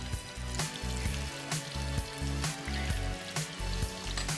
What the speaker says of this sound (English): gently place the fish in the boiling oil